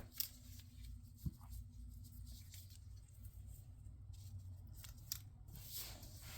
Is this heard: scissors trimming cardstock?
yes